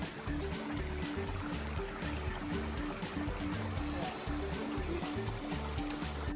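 Steady rushing water from a forest waterfall in the United States, continuous and fairly distant, with a low rhythmic thumping beneath it.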